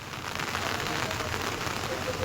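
Heavy rain pouring steadily for over an hour in Ambur and Vaniyambadi, Tirupattur district, Tamil Nadu, heard as a dense, even hiss of falling water throughout with no breaks.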